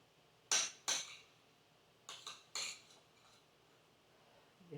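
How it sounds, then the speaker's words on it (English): Spoon scraping bacon and cheese out of a bowl, five sharp close clinks and scrapes of utensil on dish in two small groups, quiet between them. "make sure to get all my bacon out of the bowl"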